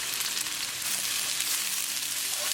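Onion frying in a pan for chicken marsala gives a steady, close, dense sizzle that holds evenly throughout, with no voices.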